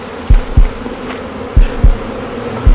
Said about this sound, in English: got stung by an entire colony of freaking bees just because he wanted a freaking bee beard